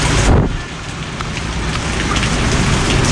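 Heavy rain pours steadily onto a flooded street on Vo Nguyen Giap road in Dien Bien Phu city, a dense loud hiss with a brief splash or rumble near the start.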